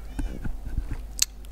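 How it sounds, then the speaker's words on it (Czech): Cats meowing inside a Minecraft game world, several short repeated mews scattered across the moment over a low steady background hum, with one sharper, higher cry near the end. "I ty kočky řvou stejně furt na hlas."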